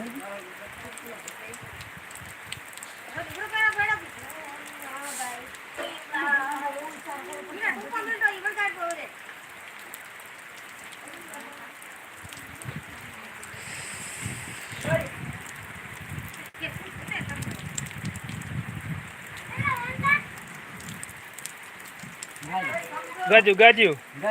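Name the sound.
rain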